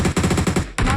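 Rapid gunfire from a video game shooter, a quick burst of loud repeated shots followed by one more blast, close and without voices.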